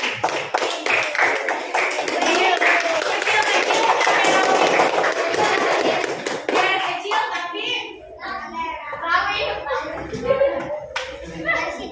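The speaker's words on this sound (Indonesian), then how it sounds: "Tepuk tangan dulu" A classroom of children claps hands together in a burst of fast applause lasting several seconds, then trails off into scattered claps, chatter and a teacher's voice.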